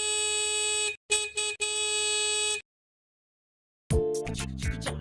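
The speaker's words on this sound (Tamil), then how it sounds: "என்ன எதுக்கு இப்ப ஹார்ன் அடிச்சு கத்திட்டு இருக்க?" A car horn honks outside a house, three sharp blasts in quick succession followed by a silent gap and then another bright tonal burst.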